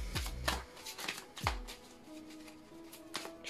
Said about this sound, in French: Et avec le tarot vice versa que je vais battre comme ça